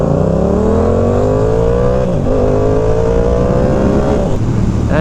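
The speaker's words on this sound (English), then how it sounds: "There he goes in that truck." A vehicle at a violent car meet revs hard and accelerates away with rising engine tones, loud and close, then the pitch drops and climbs again as it goes through gears.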